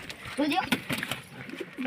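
Soft pigeon cooing close by, with low throaty murmurs mixed among rustling and indistinct voices.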